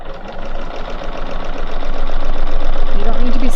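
A sewing machine hums and stitches steadily while quilting along a ruler a quarter inch from its edge, a continuous close motor drone that grows slightly louder, with faint background tones.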